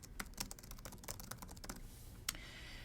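Typing on a computer keyboard, a quick uneven run of close, crisp key clicks that slows and stops, with one final tap, quiet and alone.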